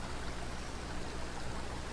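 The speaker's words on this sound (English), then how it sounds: "That's dark, oily water." Dark, oily water flows steadily in a Backrooms found-footage scene, a constant close trickling stream that runs unbroken throughout with no other sounds over it.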